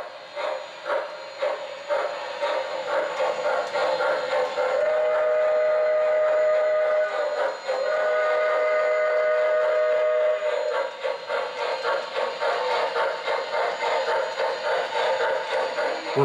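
A Lionel model steam train, a J-Class pulling passenger cars, rumbles steadily with chuffing hiss, while a steady whistle sounds twice through the middle, close and continuous.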